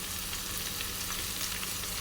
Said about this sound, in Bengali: কড়াইশুঁটিও ভাজা ভাজা হয়ে গেছে সব সবজিগুলো